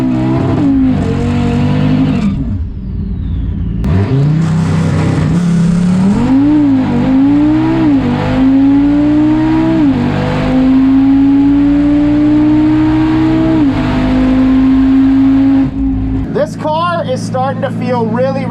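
An 850-horsepower Porsche Turbo S roars from inside the cabin in a drag race against a 5-liter Mustang, engine pitch climbing hard through each gear with sharp drops at the shifts before the revs fall away.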